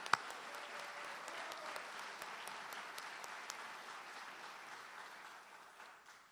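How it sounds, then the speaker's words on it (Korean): Guests at a state dinner welcoming President Trump applaud in a large hall, a steady, moderately distant round of clapping with a few sharper claps standing out before it tapers off. "Ladies and gentlemen, another big round of applause to congratulate President Trump."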